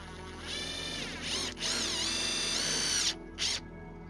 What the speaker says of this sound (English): I'm using self-tapping screws to screw them into the side skirts.